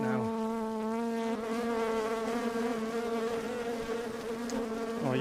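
A steady, dense insect buzz of many honey bees from a colony in a chimney, loud and close, with a continuous droning hum that slightly wavers in pitch throughout.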